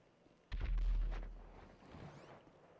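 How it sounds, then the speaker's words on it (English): A sudden low boom erupts in the GTA V video game and rumbles away, followed by a second, softer thud, distant and fairly faint. "I just hear random fucking explosions."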